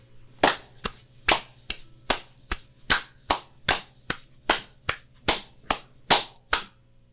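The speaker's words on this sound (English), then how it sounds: "and then you clap twice as fast" Hands clap alone at a brisk, even pace, roughly fifteen sharp claps close by, about twice the speed of a slow steady beat.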